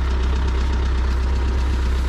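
A motor idles roughly with a steady low rumble and a knocking, labored vibration throughout.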